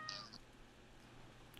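Cat meowing in the Ao Oni video game, a faint short meow heard once at the start over a low steady background hum.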